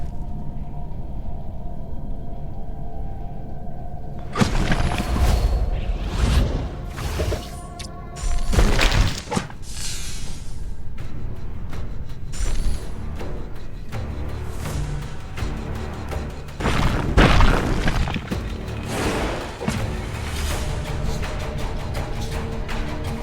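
Heavy stone impacts from a rock missile spell in a 2h mace geomancer build game fight: several loud crunching thuds and rumbling bursts at intervals over a low ambient backdrop.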